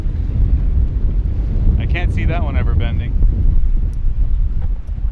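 Strong wind buffets a sailboat and roars constantly and loudly into the microphone, while someone talks briefly partway through.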